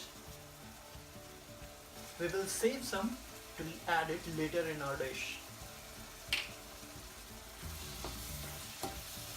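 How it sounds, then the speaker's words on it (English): Mushrooms sizzle and hiss softly in a hot pan for a mushroom and peas curry while a spoon stirs now and then, with a voice speaking over the cooking. "While our mushrooms are frying"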